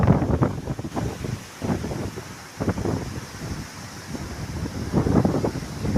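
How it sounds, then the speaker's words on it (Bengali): Wind gusts across open village ground and buffets the microphone in a steady low rumble that swells and eases in uneven waves. No voices are heard. "বাতাসের শব্দ হয়তো আপনারা পাচ্ছেন, কেমন বাতাস বচ্ছে।"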